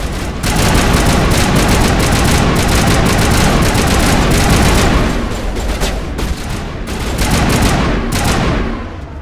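Weapon fire in the video game Mass Effect, a loud, close, continuous run of rapid shots with dense bursts that dip briefly in the middle and then build again, with no talk over it.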